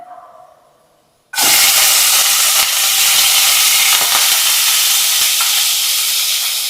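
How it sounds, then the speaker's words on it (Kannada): Diced knol khol (kohlrabi) hits a hot pan of oil with cumin and bursts into a loud, steady sizzle after a quiet start, then holds as a dense, continuous hiss. "ನೋಡಿ ಇವಾಗ ಗೆಡ್ಡೆಕೋಸು ಹಾಕೊಳ್ತಾ ಇದೀನಿ"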